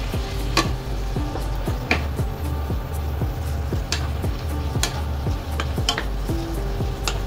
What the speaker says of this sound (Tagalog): And then maghalo tayo ng kunting suka guys, pang dagdag tanggal lansa